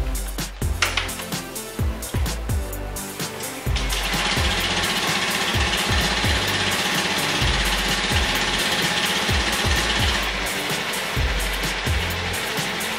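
A Honda Beat FI V2 scooter fresh from an oil change starts with a few uneven cranking chugs, then settles into a steady, close, rhythmic idle.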